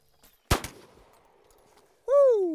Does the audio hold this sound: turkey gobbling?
no